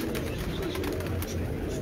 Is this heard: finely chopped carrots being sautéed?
no